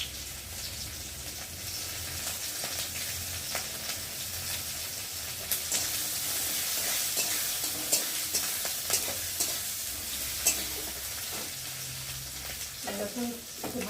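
Chopped onion and chilli sizzle steadily in hot oil, with stirring scrapes and clinks growing more frequent partway through.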